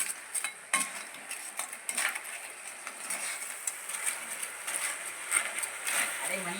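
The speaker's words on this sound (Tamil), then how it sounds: "நல்லா பொடி போட்டு கிண்டிக்கிட்டு இருக்கோம்" A spoon scraping and stirring spice powder into crab pepper gravy in a pan, with irregular metallic scrapes and soft clinks over a faint sizzle, and a voice talking throughout.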